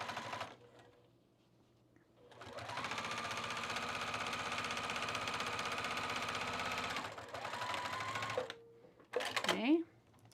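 A sewing machine stitches a half-inch seam at the center back yoke of overalls: a sustained, steady mechanical whir of several seconds, close up, framed by brief starts and stops and a short rising whine near the end.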